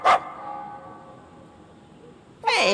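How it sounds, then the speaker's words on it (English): Rita's dog barks in the Dreamcast game Sword of the Berserk: Guts' Rage. Two sharp, close barks come about two and a half seconds apart, with a quiet pause between them. "Hey, isn't this Rita's dog?"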